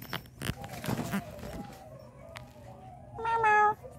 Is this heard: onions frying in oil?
no